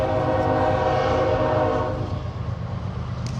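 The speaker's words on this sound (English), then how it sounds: "Those horns on the train will wake even the deepest sleeper." A loud, sustained Union Pacific train horn blares steadily, then cuts off, leaving the rumble of the passing train, near a campground at Deschutes River State Recreation Area, Oregon.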